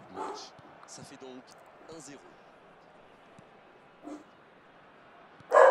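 A dog yips and whimpers a few times at a distance, with scattered voices, ending in one sharp, louder bark up close.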